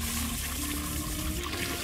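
Toilet flushing in the Lucius II horror game, a steady rushing and gurgling of water running continuously at moderate volume with no talk over it.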